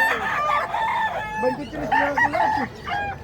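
Chickens in a crowded coop crow and cluck all through, with a rooster's repeated calls standing out close by over the busy flock.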